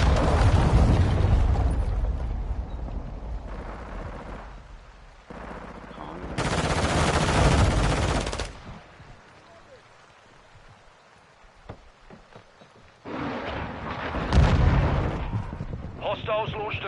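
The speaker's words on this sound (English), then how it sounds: "Friendly cruise missile inbound." Cruise missile strike in Modern Warfare 2, a run of loud, heavy blasts and rumbling detonations with bursts of gunfire, surging and fading in waves over a sustained battle din.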